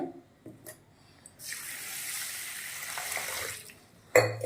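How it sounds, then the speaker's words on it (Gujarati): Running water splashes steadily for a few seconds as urad dal and rice are rubbed and rinsed, ending with a brief clatter. "આને ચાર પાણીથી આપણે ઘસી અને ધોઈ નાખવાનું છે"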